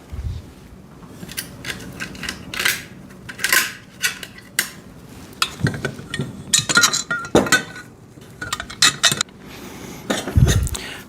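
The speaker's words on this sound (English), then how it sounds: "and then put the bolts through." Metal bolts clink and rattle against the steel frame of a foldable welding table as they are pushed through triangular holes, a run of sharp close metallic taps and jingles with short pauses, louder knocks near the end.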